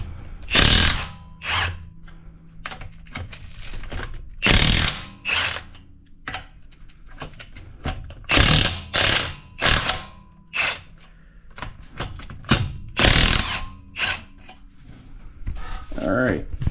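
An impact wrench loosening bolts during home vehicle maintenance rattles in repeated short bursts, close and fairly loud, alternating with the clanks of tools and parts throughout.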